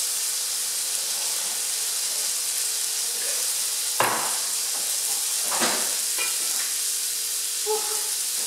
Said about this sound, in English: So I'm now going to add the mushrooms to it.